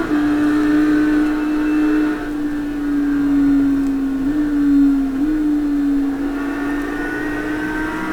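Simulated race cars lapping Silverstone in the iRacing video game, including LMP2 prototypes: a steady, droning engine tone that holds fairly level with slight pitch wobbles and small surges, loud and continuous with no talk.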